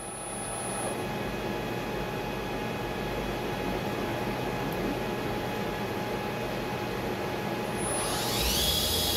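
A 2006 Fryer MC-10 vertical machining center spindle turning at 1,000 RPM gives a steady, even broadband whir with a faint constant hum, and the tone brightens and swells slightly near the end.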